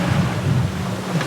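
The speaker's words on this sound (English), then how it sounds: "The waves are probably about 2 meters high." Rough sea of about two-metre waves around a sailing boat on passage, heard as a steady, dense rush of water and wind noise throughout, with no talking.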